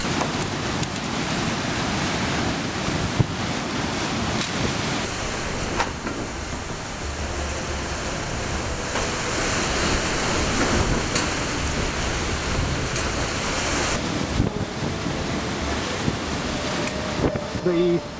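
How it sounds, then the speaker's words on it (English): Category 4 Hurricane Harvey winds roar without a break, a loud, constant rush of wind noise that swells and falls slightly throughout, with no distinct voices. "Winds really screaming hard now."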